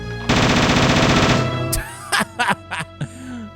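An Ingram submachine gun fires a fast, loud, continuous burst at zombies in the original Resident Evil game, followed by a few short, punchy hits and groaning, squawking creature cries.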